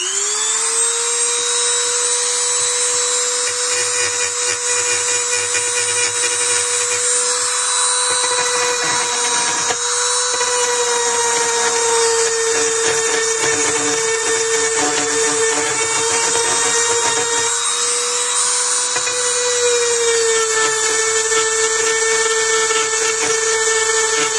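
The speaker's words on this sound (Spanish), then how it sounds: "Vamos a lijarle un poquito para quitarle la primera capa de la aluminia." A steady, high-pitched power tool whine sands the aluminium surface of LiFePO4 battery cells without pause, loud and close, with small shifts in tone as it works.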